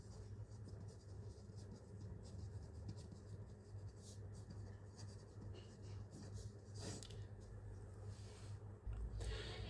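Faint, continuous scratchy strokes of writing on paper or board while working a reasoning problem, set against a low, steady background hum.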